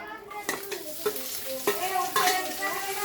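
Chicken pieces roast dry in a pan without water, with a close sizzle under repeated rhythmic scraping strokes of a spatula stirring them, about every half second.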